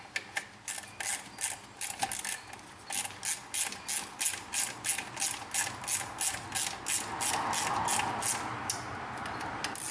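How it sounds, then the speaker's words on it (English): A ratchet wrench clicks in steady rapid bursts while tightening bolts on a Chevy Corvette engine intake, close and loud, each stroke a rhythmic ratcheting whir. "We'll get all these on, we'll get these babies torqued down both sides."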